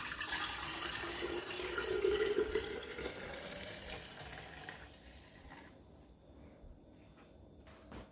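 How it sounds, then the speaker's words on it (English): Carrot and orange juice pours into a jug in a steady, continuous liquid stream that is loud at first, then thins and fades toward the end, with no talking. "so I'll just pour it out in this jug."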